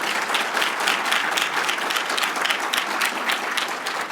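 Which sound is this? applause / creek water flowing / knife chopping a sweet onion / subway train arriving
applause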